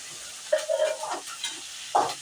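Spices and vegetables fry in hot oil for a village-style Sankara fish curry, giving a soft sizzle with stirring scrapes and a few brief louder bursts of crackle.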